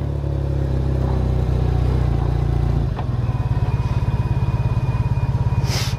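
A motorcycle running on bioethanol rumbles steadily up close, its engine note shifting partway through into a pulsing, throbbing idle-like rhythm with faint whine above.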